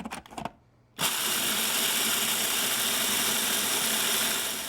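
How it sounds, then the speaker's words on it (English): A food processor grinds almonds for Siena-style almond cookies. A few rattling pulses come first, then a short silence, then a loud, steady, continuous whirring roar. No one talks over the grinding. "So get them in a food processor and then just grind them."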